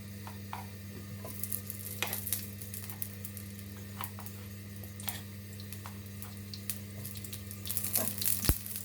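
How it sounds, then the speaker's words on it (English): Ghee melts in a pan for a Bangladeshi-style chicken korma, giving a faint, steady sizzle with scattered light crackles and clinks over a low, constant background hum. "So to my pan, I'm gonna add some ghee."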